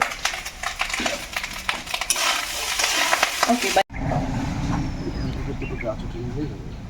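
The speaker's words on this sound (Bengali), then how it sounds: "আমাদের ভাত ভাজা" Rice fries in a pan with a steady sizzle and scraping stirs, loud and close, with a brief cut partway through.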